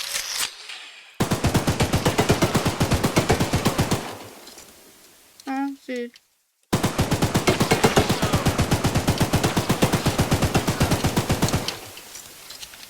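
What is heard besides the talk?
machine gun firing in a video game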